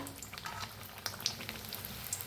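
Bread pakora deep frying in oil, a soft, continuous close bubbling sizzle with scattered small pops.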